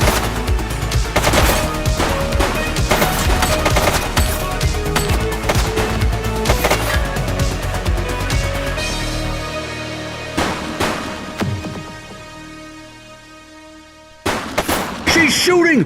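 Bursts of gunfire from the police game The Precinct, sharp repeated shots cracking through a dense, loud game soundtrack for most of the stretch, then a brief lull before a final loud volley of shots.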